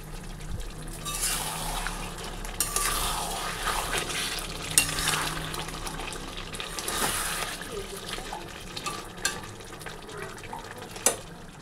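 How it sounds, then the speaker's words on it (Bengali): Meat sautéing in a pan in a home kitchen, with steady sizzling and frying hiss throughout, broken by occasional stirring scrapes and clinks. "মাংস কষানো হচ্ছে এখানে।"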